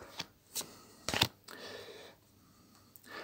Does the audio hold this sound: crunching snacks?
no